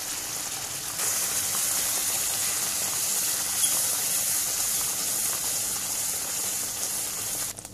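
A spoon stirs jamun (black plum) pickle round and round right after lemon juice goes in, giving a steady, close, wet swishing hiss that runs unbroken for several seconds with no voices.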